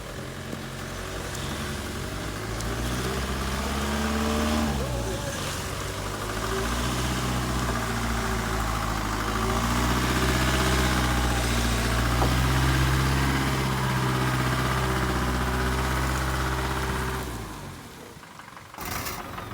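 A heavy tractor engine drones steadily for most of the clip, its pitch shifting as it labors and revs while towing a vehicle, then cuts off abruptly near the end.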